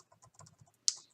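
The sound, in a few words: typing on a computer keyboard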